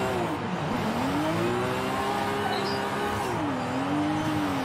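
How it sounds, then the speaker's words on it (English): Engine in a car in Forza Horizon 5, drifting on a mountain road, held near redline; a loud, continuous high-pitched rev that dips and climbs again, heard alone with no talk. "The red line on this car sounds so good."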